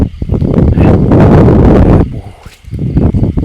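Evening wind blows outdoors, buffeting the microphone in a loud, rumbling rush that holds steady, dips briefly, then picks up again.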